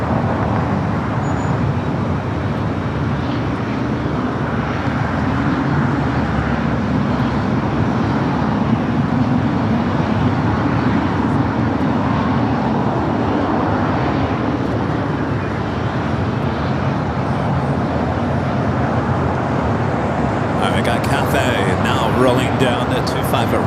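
A Boeing 777-300ER airliner arriving from Manila touches down on runway 25 Right at LAX, a steady broadband roar of jet engines and rushing air held at a constant level, with outdoor traffic noise around it.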